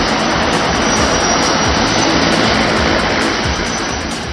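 A seaplane roars loudly and steadily as it runs across the calm surface of Sardar Sarovar lake and lifts off, its engine drone filling the whole stretch without letup.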